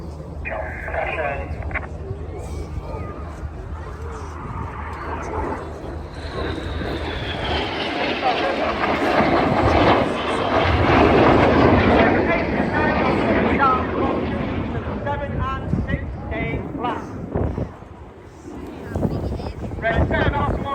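Red Arrows jets perform at the 2025 Cosford Airshow, their roar swelling from a distant hum into a loud, broad rushing blast mid-clip before easing off, with a narrator talking over the top.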